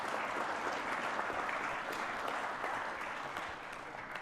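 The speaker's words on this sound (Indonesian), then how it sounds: "Nah, ini boleh tepuk tangan dong." Audience applause at an Indonesian presidential address, dense sustained clapping from a crowd, steady and fairly loud before easing off toward the end.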